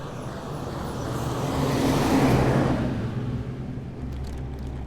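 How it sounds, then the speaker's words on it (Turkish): A truck passes on a road near Finike and Demre, its engine noise and tyre roar swelling to a loud close peak, then fading away, with a low rumble remaining at the end. "Bakınız hemen geldi bir kamyon."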